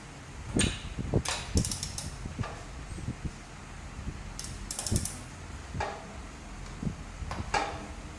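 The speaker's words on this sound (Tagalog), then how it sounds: "Tanggalin natin itong pinaka-nut sa gitna." A ratchet wrench works on a 27 mm nut at the center of a pelletizer machine's grinding disc, giving a series of close, sharp mechanical clicks and clanks in irregular bursts with quiet gaps.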